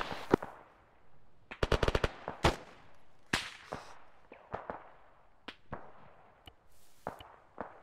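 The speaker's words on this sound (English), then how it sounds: "We got more gunshots west, northwest." Gunfire rings out during an Afghan patrol in the video game Arma 3: scattered single shots and quick bursts, some loud and close, others fainter and distant, with no talk.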